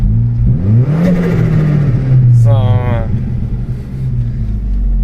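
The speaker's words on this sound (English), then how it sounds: "This definitely puts smiles on their face when they hear the turbo on this thing" A turbocharged Saab 9000 2.3 CSE with a big aluminium intake pipe revs up loudly, then gives a rising whistle and a brief fluttering blow-off chirp, with someone talking over it.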